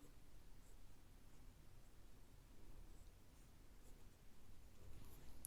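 A pen stroking out the Chinese character 和 on paper, faint close scratching strokes in short bursts against a quiet hiss, no talking.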